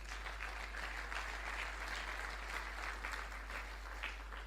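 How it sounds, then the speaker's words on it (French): A church congregation applauds steadily during a Sunday worship service, a dense and continuous clapping that holds at an even level throughout with no talk over it. "Nous pouvons acclamer trop fort."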